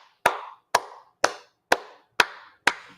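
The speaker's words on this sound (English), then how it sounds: "let's clap for ourselves" Six sharp, evenly spaced hand claps ring out one after another in otherwise quiet surroundings, each with a short decaying tail.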